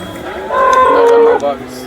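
A single close, loud moo from a cow one month pregnant at a cattle market in Sangola, drawn out for about a second over faint background noise.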